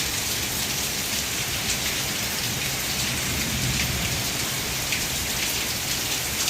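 Heavy rain pours steadily, a dense continuous hiss with no voices, loud and close throughout.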